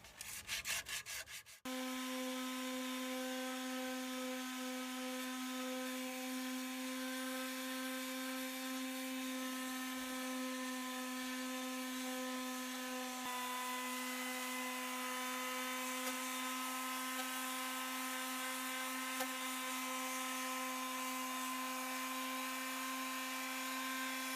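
Steady, continuous rubbing of sandpaper by hand on a wooden wall shelf, a dense scratchy texture holding at an even level for the whole stretch with no talking.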